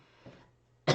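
A woman gives a small cough followed moments later by a sharper, louder cough, close to the microphone with no talking.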